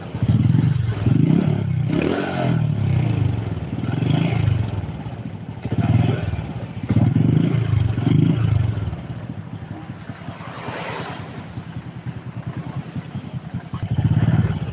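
A Honda Supra 125 motorcycle engine with a clutch fault idles and is revved up and down close by. A whining, crying noise runs under the uneven pulsing engine clatter, with no talking.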